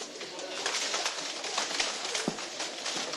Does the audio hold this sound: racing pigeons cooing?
yes